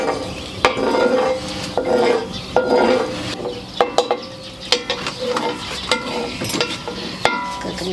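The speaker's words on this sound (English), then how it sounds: "Cooking some oil." Oil sizzles in a frying pan with a steady hiss, close and loud, broken by scraping and clinking of a utensil against the pan.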